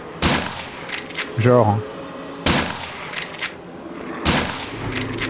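Rifle shots from the survival game Survive The Nights, several sharp loud bursts spaced across the moment, with someone talking between them.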